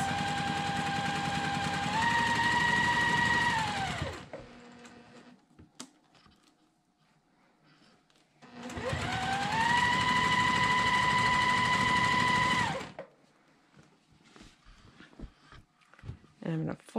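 Sewing machine stitching a mitered quilt border, running in two steady whirring bursts of about four seconds each, with a short back-stitch change in pitch, separated by quieter handling noises.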